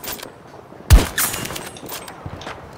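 Sniper rifle fire in the shooter game Battlefield 2042: a sharp loud shot lands near the middle, followed by a second report and fainter distant gunfire trailing off.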